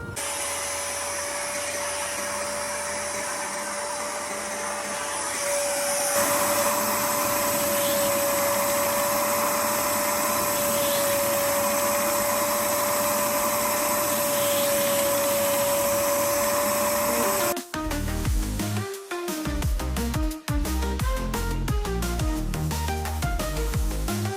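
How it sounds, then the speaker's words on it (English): A Rug Doctor carpet cleaner works on a car's interior, its loud steady motor whine droning close by with a rising pitch partway through. Near the end the tone breaks into choppy surges and bumps as the machine moves. "Get the old rug doctor out."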